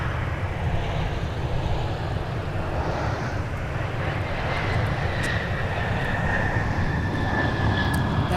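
Delta Boeing 737-900ER jet airliner at Minneapolis–St. Paul airport, a loud continuous engine roar that swells slightly and holds steady with a whining tone rising above it, heard close by with no talking.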